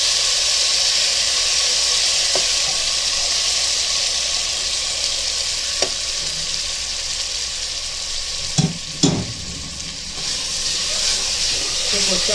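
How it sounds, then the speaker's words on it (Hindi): Masala for masoor amti, a Konkani lentil dish, frying in a pan with a continuous hissing sizzle, stirred with a spoon that gives a few clinks and scrapes near the end. "चम्मच हिला के अच्छे से भुनेंगे उसको, खुशबू आने तक अच्छे से भुनेंगे"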